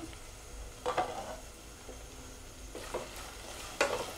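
Potatoes fry in a pan over low heat, a soft steady sizzle broken by a few louder scraping stirs of a spoon, close and with no one talking.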